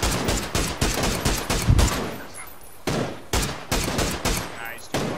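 Rapid bursts of video game gunfire ring out in a steady rhythm, loud and close, with short pauses between volleys and a brief lull near the middle.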